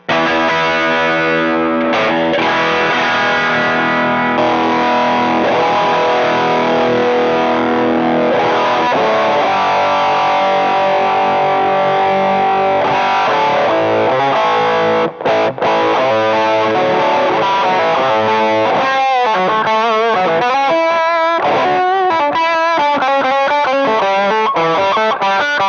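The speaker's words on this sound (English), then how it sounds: "it absolutely is a full-blown distortion pedal" Heavily distorted electric guitar through an all-tube distortion pedal, playing sustained chords and then quicker melodic runs, loud and saturated, with no voices.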